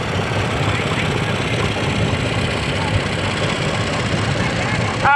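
Small John Deere tractor at an antique tractor parade, its engine running at a steady, rough, chugging idle close by throughout, with faint crowd voices in the background.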